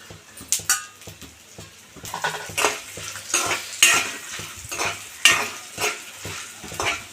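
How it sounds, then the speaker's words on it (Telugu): Dried red chillies and spices crackle in a little oil as a spoon scrapes and taps the pan in uneven strokes, with soft sizzling between the louder clinks, close up and without speech. "దీంట్లో నూనె వేసుకొని పోపులు వేపాలి"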